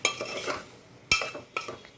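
Spices frying in a pan for a vegetarian Bengali dish, heard as a soft sizzle with a spoon stirring and scraping, and two sharp metallic clinks of utensil on pan.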